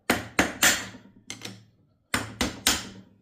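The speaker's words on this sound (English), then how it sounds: "Grab your whacking hammer." Seven sharp metallic hammer strikes on a depowered BMW E36/E46 steering rack part ring out in two quick clusters, close and loud, with short pauses between groups.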